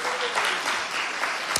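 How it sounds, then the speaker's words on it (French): A crowd applauds steadily, dense scattered clapping filling the space at moderate volume with no voices on top. "Joyeux anniversaire, on peut les applaudir."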